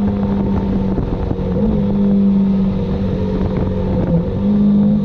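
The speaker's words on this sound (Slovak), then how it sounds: "Aj pri tomto pridávaní môžete počuť ten chraplak, ktorý tam je, keď ten motor vytočíte a klesajú mu otáčky." A Honda CB500F Hornet motorcycle engine revving and dropping back, a close, loud, raspy drone with rising and falling pitch, accompanied by wind noise and no talking.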